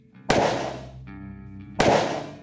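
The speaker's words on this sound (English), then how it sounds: "2 shots ring out." Two sharp, loud gunshot effects for a radio drama set in an old saloon crack about a second and a half apart, each with a ringing, fading tail and a faint tonal hum between them.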